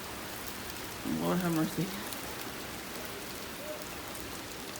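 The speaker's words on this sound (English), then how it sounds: "So the wind is pushing the rain." Wind-driven rain pours steadily as a dense, even hiss throughout, with a brief spoken exclamation rising over it partway through.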